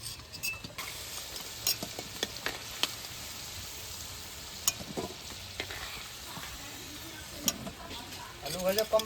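Potatoes frying in hot oil for a home-cooked mutton biryani, a steady low sizzle with occasional stirring clinks and scrapes, soft and close, with a brief busier burst near the end.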